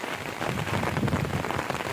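Rain falling in a village, a steady moderate patter of drops on surfaces, continuous and fairly close with no voices.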